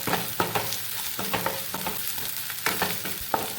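Pasta sauce with chilli flakes being stir-fried in a pan: a steady close sizzle with repeated sharp scrapes and clacks of a spatula stirring at an uneven rhythm, no voices.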